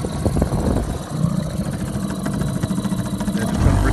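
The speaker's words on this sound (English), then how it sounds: "Engine's on." A boat's engine idles on a tidal river, giving a steady mid-pitched rumble with a slight irregular pulse that stays close and fairly loud throughout, with no talking over it.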